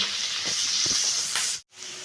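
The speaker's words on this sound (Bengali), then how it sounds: "পেঁয়াজ আর কাঁচা লঙ্কা কুচিটা দিয়ে দিলাম, দিয়ে এটা একটু হালকা ব্রাউন করে আমি ভেজে নিচ্ছি।" Chopped onion and green chilli fry in oil in a pan, giving a steady, loud, close hiss and crackle with faint stirring bumps, cutting off abruptly for a moment before the sizzle resumes.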